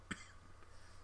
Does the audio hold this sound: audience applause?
no